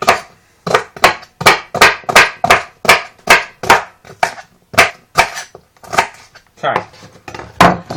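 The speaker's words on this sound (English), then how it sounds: "I scrub the celery, and I chop the ends off." Celery stalks chopped with a knife on a cutting board, a steady series of sharp, close, evenly spaced chops, about fifteen knocks, with a brief spoken word near the end.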